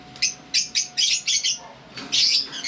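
Small birds in a backyard aviary give a quick series of bright, high chirps and tweets in short bursts, close and clear, with a brief pause before another cluster of calls.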